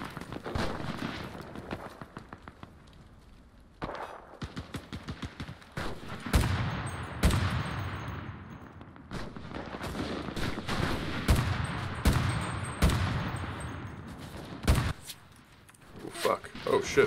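Gunfire from the video game Enlisted, with repeated bursts of rifle and machine-gun shots, some loud and close, others more distant, while a player talks over the action.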